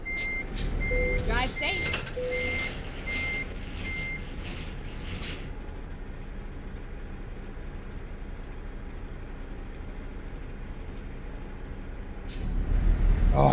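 In Euro Truck Simulator 2, a truck reverses with a string of evenly spaced high reversing beeps and a hiss like an air brake, over a steady engine drone that swells near the end; a voice speaks briefly.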